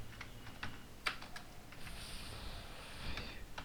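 Soft, scattered keystrokes on a computer keyboard while entering text into an HTML registration form, quiet clicks in an irregular rhythm with no talking.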